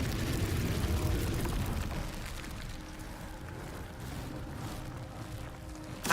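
Confringo fire spell blasts in Hogwarts Legacy give a roaring, rumbling burst of flame and explosion that fades into a lingering crackle, ending on a sharp loud hit.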